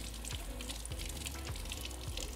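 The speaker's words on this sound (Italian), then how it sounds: "prima cosa lo risciacquiamo in acqua" Running water rinses a dirty part from a coffee machine, a steady close hiss and splash with faint clinks and knocks underneath, no voices.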